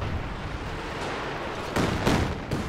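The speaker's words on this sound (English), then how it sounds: "Barrage onto the forward HQ." Artillery barrage from a Company of Heroes 2 match, heard as a steady rumbling wash with a few heavier booming impacts near the end, no voices over it.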